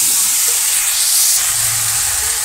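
Bottle gourd and potatoes sauté in a pan in a village kitchen, giving a loud, steady sizzle and hiss with light stirring, no voices.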